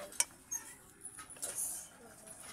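Plates, dishes and cutlery clink softly during washing, with a few scattered light knocks and a brief rattle over quiet room noise.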